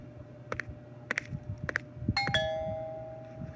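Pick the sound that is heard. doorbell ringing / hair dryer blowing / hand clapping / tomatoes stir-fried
doorbell ringing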